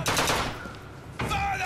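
Close, loud gunfire in BioShock Infinite, a rapid burst of shots followed by another sharp shot about a second later.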